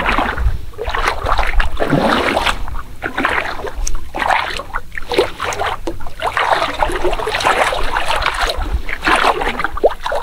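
Small fishing boats out on open water, with an engine droning, water splashing against the hull and wind gusting, all close and continuous, with no talking.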